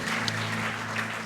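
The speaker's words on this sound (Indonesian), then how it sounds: "Berikan tepuk tangan meriah buat Tuhan kita." A church congregation at a worship service claps together in a steady, dense wash of applause, with a low electrical hum beneath it.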